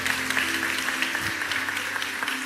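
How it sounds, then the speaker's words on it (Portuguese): Church congregation applauding at a morning service, a steady dense wash of clapping from many hands, moderately loud and continuous throughout with no talk over it. "Dê um aplauso bem forte a Deus pela vida desse homem"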